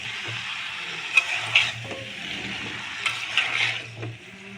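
Pumpkin and potato frying in a pan for a vegetarian curry, stirred with soft scraping strokes over a steady close sizzle, with a few louder clinks of the spoon.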